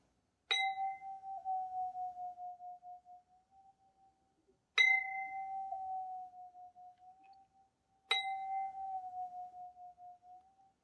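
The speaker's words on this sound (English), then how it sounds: "if I strike the pipe and then I dip it into the water" Three separate metallic rings from a struck metal pipe dipped into water, each struck sharply and then sustaining a clear tone that wavers and fades over a few seconds, with brief silences between strikes.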